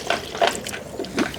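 Distilled water is poured through a funnel into the cooling system of an abandoned 1972 Chevy El Camino, making a few soft, close splashes and trickles in quick succession.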